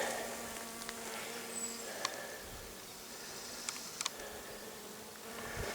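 A honeybee buzzes faintly on flowering Tatarian honeysuckle outdoors, a thin steady drone under a wash of background noise, with a few tiny clicks.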